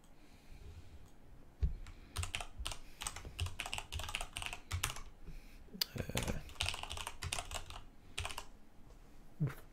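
Computer keyboard typing at a desk during a level-editing session in the Creation Kit, with the keyboard at an awkward angle; a close, busy run of rapid, uneven keystroke clicks in short bursts with brief pauses, and no talking.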